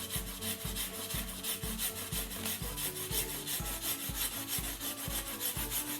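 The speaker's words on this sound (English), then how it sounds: "So I'm going to take my marker and literally just go right across." A marker rubs repeatedly across a styrofoam sheet, making harsh, squeaky rasping strokes in a steady back-and-forth rhythm, close and fairly prominent with no talk.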